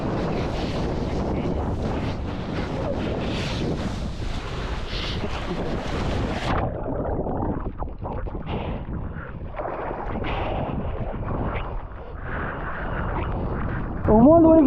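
Strong wind gusts over open sea on a windy wingfoiling session, roaring steadily into the microphone with the wash of waves underneath, loud and continuous throughout.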